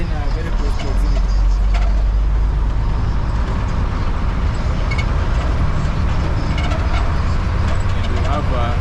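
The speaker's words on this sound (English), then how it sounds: "And we have a train, I don't know if it's a DMU" Loud, steady rumbling of a train passing close by at a station in Nairobi, with a broad roar that holds for the whole stretch and faint high clatter on top.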